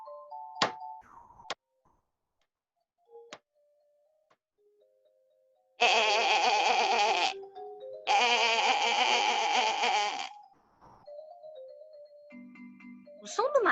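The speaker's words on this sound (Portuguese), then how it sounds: "O som do martelo é curto e o som da ovelha é longo." A couple of sharp, short hammer knocks come first, then two long sheep bleats in close succession, separated by quiet gaps and scattered boing-like effect tones.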